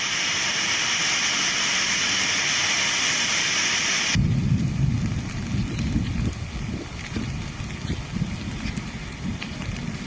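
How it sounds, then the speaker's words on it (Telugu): Heavy rain falls in Hyderabad. A loud hiss of downpour gives way midway to deep, rolling rumbles of thunder and gusty roar that carry on to the end, with no one speaking. "ఇక సిటీలో చాలా ఏరియాలో వర్షం పడుతోంది"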